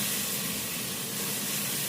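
Mustard oil sizzles in a pan as a dense, steady, bright hiss, loud and close, continuous throughout, with no talking.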